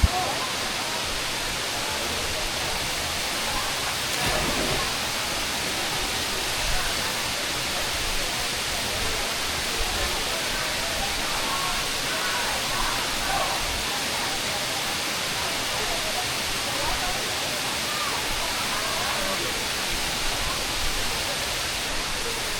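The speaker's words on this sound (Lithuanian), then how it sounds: "Atvariau iki Krioklių." Waterfall at an abandoned water park in Vietnam, a steady, dense broadband rush of falling water that stays loud and even throughout, with no talk over it.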